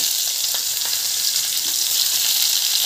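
Onions sautéing in a pan for mixed vegetable sambar, a steady bright sizzle that holds evenly throughout with a few faint stirring clicks, close and fairly loud, with no voices.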